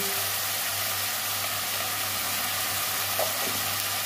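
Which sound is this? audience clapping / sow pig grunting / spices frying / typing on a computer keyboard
spices frying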